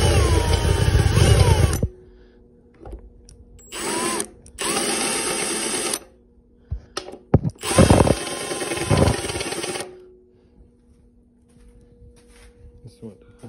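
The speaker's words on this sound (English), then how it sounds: "This is what the deburring bit looks like. A little chamfer bit. Just kind of takes it off right there." A power drill spins a small chamfer bit to deburr NPT fittings for a TH350 transmission, loud whirring bursts that start and stop several times, separated by quieter gaps.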